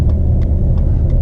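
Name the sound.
car traffic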